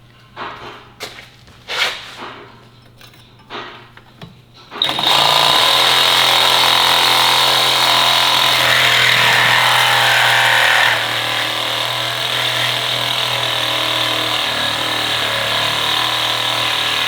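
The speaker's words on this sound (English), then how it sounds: "the first thing we're going to do is sawzall some tubing out of the way" A reciprocating saw cuts through frame tubing on a Can-Am X3, a loud, steady buzzing rasp that starts abruptly after a few seconds of scattered knocks and handling noises, then runs continuously close by.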